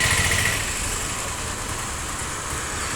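A motorbike idles on the Arunachalam Giri Pradakshina route, a low, even engine putter at moderate volume, steady and alone.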